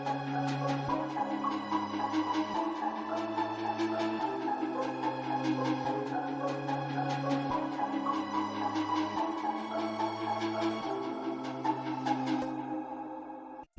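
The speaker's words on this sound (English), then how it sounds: "The second to last melodic sound we've got here is just the violin 1s in BBC Symphony Orchestra." First violins of the BBC Symphony Orchestra carry a slow melody in sustained bowed notes that step between pitches, layered over lower held tones in a dense, steady orchestral texture with no talking.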